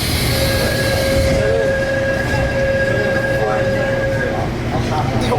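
A Seoul subway train carrying passengers rumbles loudly and continuously nearby, with a sustained tonal whine from the motors and a brief squeal, heard from on board.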